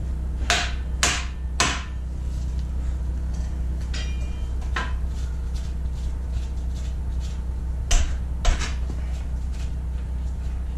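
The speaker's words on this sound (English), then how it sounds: "Rubber mallet." A rubber mallet strikes the front wheel of a 2001 Honda Shadow Spirit 1100 motorcycle during wheel removal, giving sharp knocks in short clusters with quiet gaps between them.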